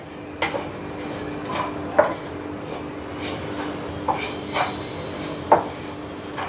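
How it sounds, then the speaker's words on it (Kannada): Oats dry-fried in a hot pan and stirred, producing intermittent scraping and light clinks of a spatula against the pan at irregular intervals, close and fairly quiet, no talking. "ಇದಕ್ಕೆ 100 ಗ್ರಾಮಷ್ಟು ಓಟ್ಸು, ಇದನ್ನು ಚೆನ್ನಾಗಿ ಫ್ರೈ ಮಾಡ್ಕೊಳ್ಬೇಕು"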